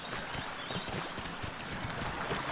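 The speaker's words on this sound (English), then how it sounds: "Those are footsteps. Those are big footsteps." Big dinosaur footsteps thud in The Isle Evrima, a series of irregular muffled impacts over a constant windy, hissing ambience, with no talking.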